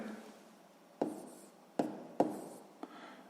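Pen or pencil writing out a sixth-grade maths calculation on paper, a soft steady scratching with a few sharper taps, close and quiet, with no speech.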